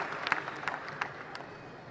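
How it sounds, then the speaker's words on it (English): A small group on the South Africa dugout claps in a few scattered bursts after a point at a squash match, fairly faint against a quiet indoor hall. "sometimes it's really confusing with the South Africa dugout clapping"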